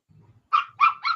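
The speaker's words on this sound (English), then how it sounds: "Oh no! Don't you start barking." A dog lets out three quick, sharp barks after a moment of near silence, fairly close and moderately loud.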